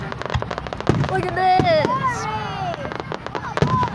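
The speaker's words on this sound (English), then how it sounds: "Look at the fireworks." Fireworks burst repeatedly at a Fourth of July display, sharp cracks and pops scattered across the moment, with a child and adults chattering and exclaiming close by over the bangs.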